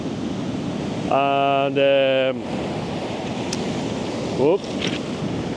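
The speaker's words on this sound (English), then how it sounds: "It's kind of tricky to film it because the waves are keeping knocking the tripod" Sea waves crash on a shore under a cloudy sky and wash in a steady, loud, broadband roar mixed with wind buffeting the microphone, while a nearby voice calls out briefly partway through.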